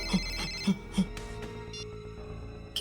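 An unanswered telephone rings in a drama scene, a few repeated electronic ring tones with tonal chimes sounding clearly and close, with no voices over them.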